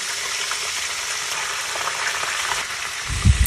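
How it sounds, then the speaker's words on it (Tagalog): Steady, crackling sizzle of food frying in hot oil, close and continuous, with a soft thump near the end. "prito na natin yan"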